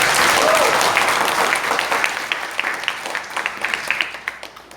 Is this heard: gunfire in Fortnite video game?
no